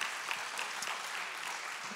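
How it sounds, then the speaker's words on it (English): A church congregation claps for the worship team during a Sunday morning service: steady, dense applause from many hands, faint and distant, running through the whole stretch without talk. "Yes, you can clap if you want."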